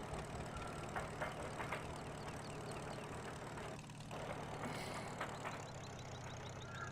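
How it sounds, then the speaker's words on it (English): Trailer rattling sound mod towed behind an Oliver tractor in a farming video game, a steady idling engine drone with faint repeated rattles on top, continuous and fairly close, no talking. "the rattling you hear is the trailer sound mod in operation"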